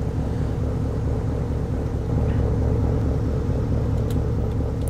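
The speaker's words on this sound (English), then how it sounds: "I like the sound of that truck though." Truck engine running in Farming Simulator 17, a steady low rumbling drone that stays loud and constant, with no talking.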